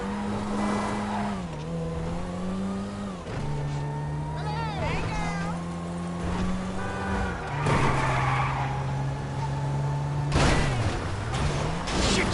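Car engine in GTA V droning with steady pitch and gear shifts, tires squealing near the end, under loud overlapping talk throughout.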